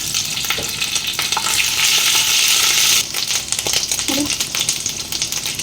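Ginger sizzling in hot oil already tempered with nigella seeds, dried red chillies and bay leaves, a loud steady hiss for about three seconds that then eases into softer crackling with a few clinks.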